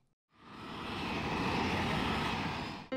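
A steady airplane engine drone used as a sound effect in a children's nursery-rhyme video. It swells in quickly, holds loud and even for about two and a half seconds, then cuts off abruptly.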